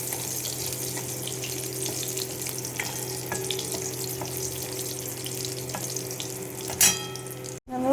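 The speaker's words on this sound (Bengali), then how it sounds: "মাছের তেলটার মধ্যে আমি একটু কালো জিরে ফোড়ন দেব" Black cumin seeds and vadi temper in leftover fish-frying oil, making a steady low sizzle and crackle that carries on throughout, with a brief clatter and a sharp louder burst near the end.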